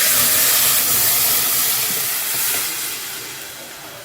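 Rasam made from tamarind, coriander and salt is poured into a hot pan, setting off a loud, close sizzling hiss that slowly fades over a few seconds.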